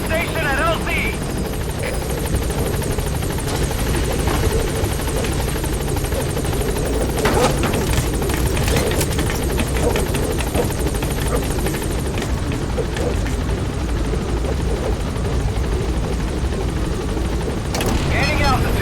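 Helicopter arriving at a landing zone in Metal Gear Solid V, a loud steady rotor thrum and engine roar filling the whole stretch, with radio voice talk over it.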